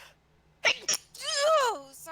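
A single sharp sneeze bursts out twice in quick succession indoors during a tabletop game session, followed by a short voiced exclamation.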